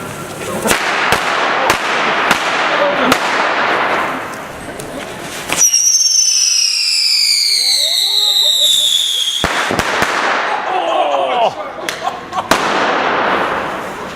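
Firecrackers and fireworks bang and crackle in a street during Las Fallas in Valencia, with dense rapid explosions, a whistling rocket streak in the middle, then more sharp bursts, loud and close.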